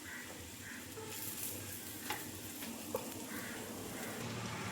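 Eggs fry in butter in a pan for anda pav, giving a faint, even sizzle with a few soft clicks as they are flipped one by one, and no one speaks.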